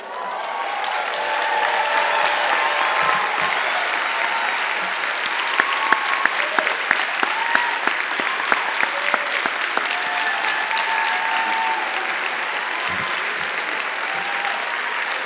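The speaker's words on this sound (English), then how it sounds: "I am, as you've anticipated from your clapping, proud to present to you the Gerald R." Audience at a graduation commencement applauding, steady, dense clapping from a large crowd that holds evenly for the full fifteen seconds with no talk over it.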